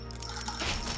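Coins drop in the idle clicking game Clicker Heroes, a brief, quiet jingle of game effects over a steady synthetic background.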